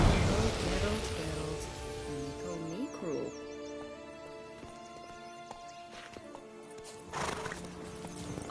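Horse from the Witcher 3 game neighing and trotting with steady clip-clop hoofbeats, moderately loud, over a background of game music and ambience, with a brief louder burst near the end.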